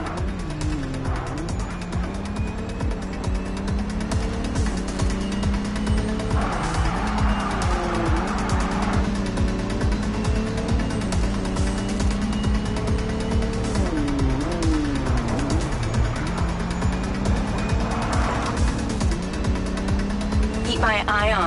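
Car engine and tires in the Mindseye video game on PlayStation 5, a steady loud driving drone with surging revs and skidding squeals, with game music and voices over it throughout.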